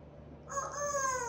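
A pet parrot imitates a rooster's crow, a single rising, harmonic call that starts about half a second in and stretches to the end, loud and close against a quiet indoor background.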